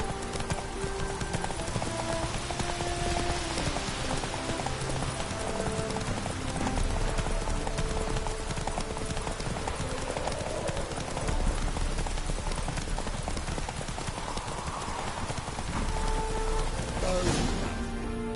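Steady clip-clopping of horse hooves during riding in The Witcher 3 on PS5, a continuous rhythmic trot set against dense game ambience and background audio.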